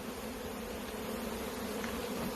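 Michigan honey bees swarm around an opened medium-sized hive during brood frame removal, making a dense, steady drone of many wings buzzing close by, without any talking.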